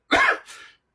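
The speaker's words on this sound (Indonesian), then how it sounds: "saya batuk pun tetap tershoot di video" A single short, dry cough from one person, close to the microphone, with a softer second push trailing off just after.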